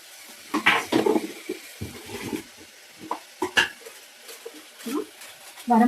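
A spoon stirring tomato masala with turmeric and chili powder in a cooking pan: irregular scraping clinks and soft knocks against the pan, with a faint sizzle in between.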